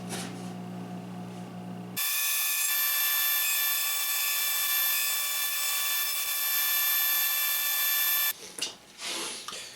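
A power drill whirs at high speed driving a screw into wood for a guitar stand mock-up, a loud steady whine lasting several seconds between quieter handling noises.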